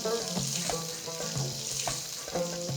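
Mutton and chopped tomatoes fry in a pan under a constant sizzle, while a utensil stirs with repeated scraping strokes and clinks, close and steady.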